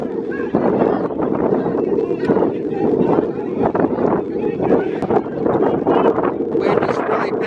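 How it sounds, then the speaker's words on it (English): Strong wind buffets the microphone at an outdoor semi-pro football game, a continuous loud rumbling roar that runs under a commentator's voice throughout. "Wind is really picking up right now."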